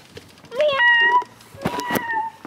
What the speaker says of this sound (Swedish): Åh, titta katten.